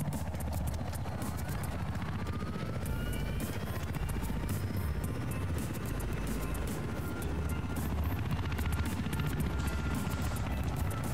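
A helicopter in the Battlefield 4 Siege of Shanghai map drones and thumps continuously at close range, mixed with scattered gunfire and clattering game effects, loud and steady throughout.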